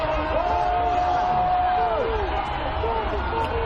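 A stadium crowd at a college football game between Morgan State and North Carolina Central gives off a steady, dense roar throughout, with a commentator's voice carrying over it.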